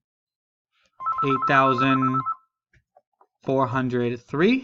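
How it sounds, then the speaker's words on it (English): A telephone rings with an incoming call, a steady electronic tone heard under a person speaking a number aloud, followed by more talk. "That was a phone call."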